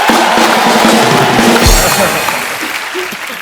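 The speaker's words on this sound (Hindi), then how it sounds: "जोरदार तालियां हो जाए एक बार" Loud studio audience applause on a comedy talk show as a guest takes a seat, a full burst that slowly eases off, with a voice briefly heard over it.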